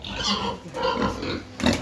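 Pigs and piglets in a barn grunt and oink in close, busy bursts across a couple of seconds, a sharper squeal near the end, without talk.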